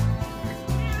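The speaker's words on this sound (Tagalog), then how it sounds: "Inyak yung pusa oh" A cat meows in a couple of drawn-out, tonal calls close by, with a short dip between them and no talk over it.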